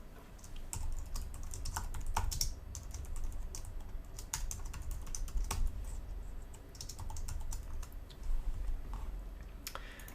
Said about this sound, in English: I'm going to go ahead and start typing and adding some text blocks.